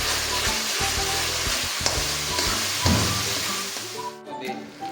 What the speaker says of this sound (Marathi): दोन चम्मच अदरक लसणची पेस्ट टाकणार आहोत अतिशय व्यवस्थितपणे आता आपल्याला संपूर्ण मिश्रण हलवून घ्यायचं आहे